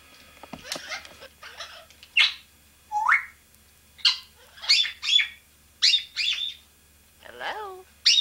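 Coco, a pet bird kept at home, lets out a series of sharp chirps and whistled calls in short, evenly spaced bursts, close and clear against a quiet room.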